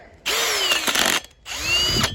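Milwaukee cordless drill running in two steady whirring bursts, each spinning up with a rising whine, loud and close with a short pause between.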